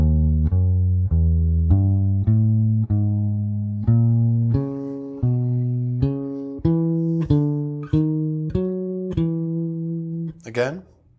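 Guitar plays a slow chord-tone approach line, about fifteen single plucked notes stepping upward one by one with clean decays, close and unaccompanied, ending in a quick flourish.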